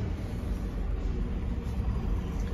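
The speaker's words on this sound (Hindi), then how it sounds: "ये देखिए गाड़ी स्टार्ट हो रहा है" Tata Altroz BS6 hatchback engine running at idle after push-button start, a steady low rumble that stays constant and fairly quiet throughout, with no talking.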